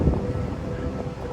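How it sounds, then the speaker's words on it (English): Wind gusts buffet the microphone on a New York City rooftop, producing a low, rumbling roar that stays steady and close for a brief moment, with no talk. "Sorry, it's probably really windy"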